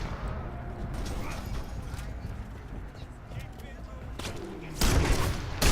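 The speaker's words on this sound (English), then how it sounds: "Shotgun isn't the best in the world" Shotgun fire in the Xbox 360 game Crackdown: two loud, sharp blasts near the end, set against busy game noise with someone talking over it.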